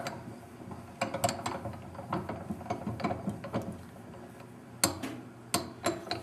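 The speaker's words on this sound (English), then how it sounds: "opening the vise" A small vise on a pen-making bench is cranked open, giving quiet, irregular ratcheting clicks and gear-like ticking close by, with no talking.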